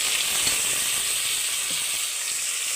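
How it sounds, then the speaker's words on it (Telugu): Beetroot mixture with onion, tomato, peas and coriander sizzling and being stirred in a frying pan, a constant hiss of frying with faint scraping stirs underneath, no voices. "కట్ చేసి పెట్టుకున్న బీట్రూట్ కూడా వేసేసి అంతా ఒకసారి మిక్స్ చేసుకుందామండి"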